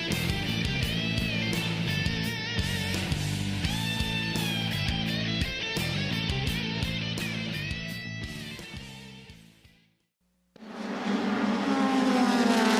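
Star Mazda race cars race at Mid-Ohio, loud engine wail shifting pitch as they pass with steady high revs, a fade to near silence, then a fresh roar of engines.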